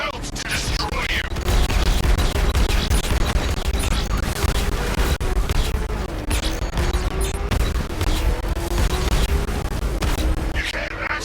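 Heavy tank gunfire in the Batman Arkham Knight video game, rapid bursts of shots and booming blasts rattling on continuously and loudly, with a low engine drone running beneath the barrage.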